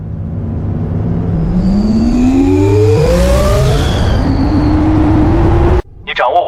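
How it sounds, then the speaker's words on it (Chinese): An animated sci-fi spaceship engine powers up with a loud, deep rumble and rising whining tones that sweep upward together, then cuts off suddenly near the end. "启动驱旅引擎，进入返航通道"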